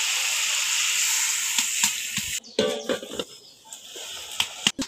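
Fried dried fish goes into a pan, giving a steady hiss of sizzling that cuts off abruptly, followed by scattered clinks and scraping as the pan settles into a quieter, uneven crackle.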